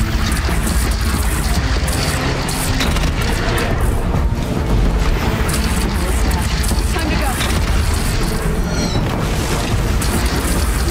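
Several guns fire at once during a battle in the video game Horizon Zero Dawn, a loud, dense, unbroken barrage full of booms and crashes. A voice talks over the din.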